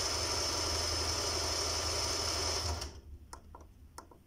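An embroidery machine motor hums steadily and loudly at a running speed of about 600, then stops abruptly, leaving a few faint clicks and taps in a quiet room.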